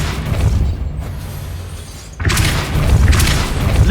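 A Depulso force spell cast in the video game Hogwarts Legacy, a sudden booming burst that cuts in over a steady rumbling background and stays loud and full to the end, with no talk.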